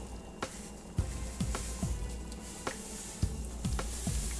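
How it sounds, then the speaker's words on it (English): Spices being added to a sauce sizzling in a pot on a home stove, a quiet, steady sizzle broken by several soft scraping and stirring thumps at irregular intervals, with no talk. "About to add the spices into the mix here."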